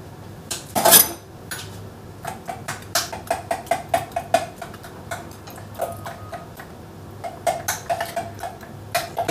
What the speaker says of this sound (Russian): И еще раз это все перемешиваем